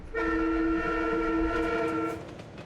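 A commuter train at Grand Central Terminal sounds a long, steady horn chord for about two seconds, loud and close over low rail rumble, then fades.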